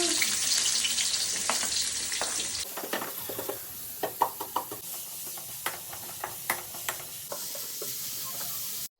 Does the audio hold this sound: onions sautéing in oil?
yes